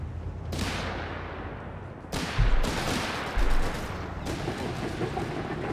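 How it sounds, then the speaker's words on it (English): Bursts of Bren light machine gun fire from Gurkha troops in a Company of Heroes 3 battle, several loud rattling strings with booming impacts and steady battlefield din beneath. "Gurkhas engaging with their Bren gun"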